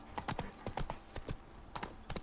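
Roach, the horse in the video game Witcher 3, gallops in a quick, uneven clip-clop of hooves, one clear beat after another at close range, with no voice over it.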